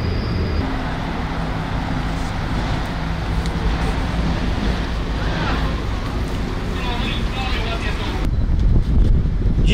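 WOPR Głogów rescue boat running on the river, a steady broadband engine and water rush with wind buffeting the microphone, continuous and fairly loud throughout, growing slightly rougher near the end.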